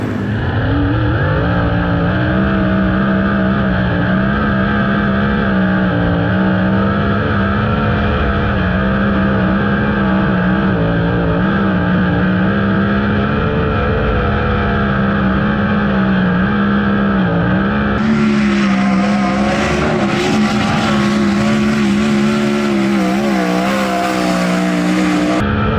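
A sprint car's engine runs loud and steady while warming up before hot laps and qualifying, a rough, throbbing drone with slight pitch wavers, growing harsher and brighter near the end.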